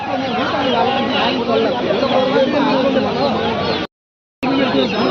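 Aseel roosters and other fowl at the Kundarapalli market in Krishnagiri District, with scattered clucks and calls buried in a dense, steady crowd of people talking nearby, briefly cutting out for a moment near the end.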